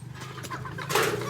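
Chickens, a hen and a rooster, clucking close by, a busy cluster of short calls running together over a steady low hum.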